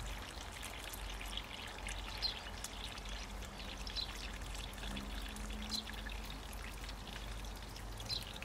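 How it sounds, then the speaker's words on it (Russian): Steady, soft splashing of water poured and trickling continuously onto the soil around a newly planted zucchini seedling, with no voices. "Хорошенько поливаем вокруг, чтобы корни расправились и пошли вниз."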